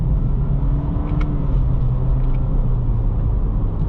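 A 2023 Acura Integra A-Spec's turbocharged engine pulls under acceleration through its CVT, a steady low droning rumble with a faint whine, heard from inside the cabin at constant loudness without speech.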